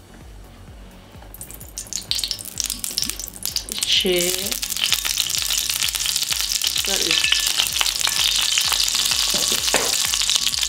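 Olive oil sizzles steadily and loudly in a pan while food fries for plov, with stirring scrapes and a few clinks throughout and brief speech near the start.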